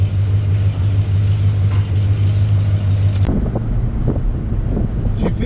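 A car engine idles after a Thompson PowerBlast plate is fitted, a low steady rumble buffeted by wind, then turning to choppier knocks and bumps near the end.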